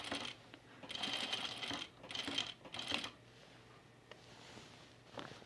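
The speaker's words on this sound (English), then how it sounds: "And I'm just sewing straight down." A sewing machine stitches a straight seam on a blouse in short bursts, whirring for a second or so at a time with pauses between runs, close and fairly quiet.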